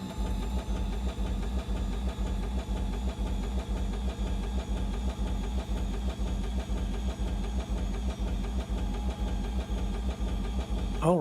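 In Microsoft Flight Simulator 2024, an aircraft engine on a PMDG Boeing 737-800 runs with a steady, fast rhythmic pulsing and a constant tonal hum, loud and close throughout.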